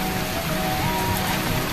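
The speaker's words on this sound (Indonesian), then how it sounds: "Dikarenakan hujan besar," Heavy rain pours down outdoors during a countryside cookout of grilled eel and goat meat, a dense, loud and steady hiss that continues without a break, with no voices.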